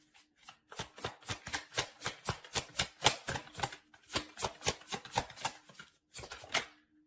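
Tarot cards are shuffled and handled in a quick run of crisp, close papery riffles and flicks, with a short pause near the end, and no voice.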